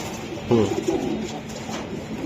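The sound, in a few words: racing pigeon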